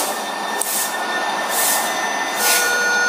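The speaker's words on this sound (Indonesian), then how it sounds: "Wah, keretanya sangat cepat banget ya." A fast train rushes past in a bus driving video game, steady rolling rail noise with a high squealing whine and rhythmic swells of rushing air.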